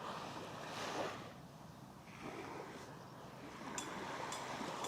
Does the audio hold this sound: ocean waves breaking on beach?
yes